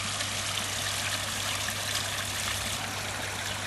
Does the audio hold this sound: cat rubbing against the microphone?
no